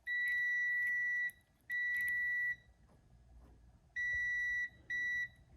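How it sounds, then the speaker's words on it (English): Electronic beeping from a device while a burned-up starter is tested: four loud, steady high-pitched beeps of uneven length with gaps between, close by, over a faint background with no speech. "That's not supposed to be beeping?"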